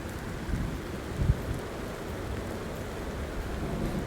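Steady heavy rain pours down through the whole stretch while a low thunder rumble rolls in near the middle, with no voices over the storm.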